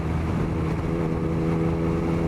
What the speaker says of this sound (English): I'm just loving this exhaust right now. It sounds really good.